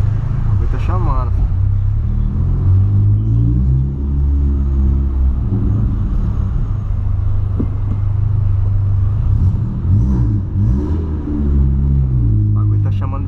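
A Volkswagen Polo with a straight-pipe exhaust rumbles deeply as it idles and blips its throttle, loud and close, and the growl rises and falls. Someone talks over the engine in Portuguese.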